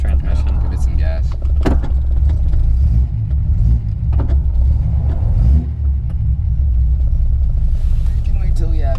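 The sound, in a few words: 1972 Datsun 240Z engine revving through the gears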